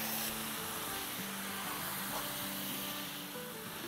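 Tomatoes and onions fry in a pan over a high flame for chicken curry, giving a steady, even sizzle that holds throughout, with a voice faintly under it.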